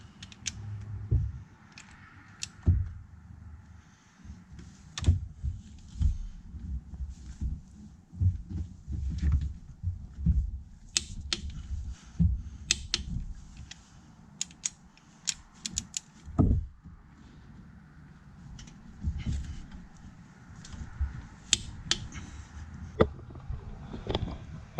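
A torque wrench tightens Duramax diesel cylinder head bolts to 125, with irregular creaks, ratchet clicks and metallic knocks close by, in bursts with short pauses, no talking.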